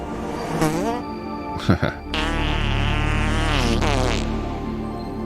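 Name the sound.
fart noise sound effect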